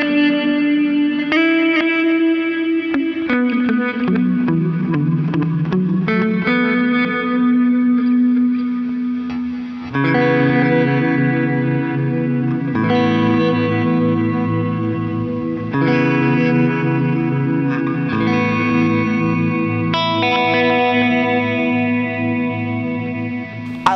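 Electric guitar played through a Horizon Devices Flux Echo pedal with reverb turned up and delay turned down, sustained chords and notes ringing into a washy, ambient tail, steady and fairly loud with no voices.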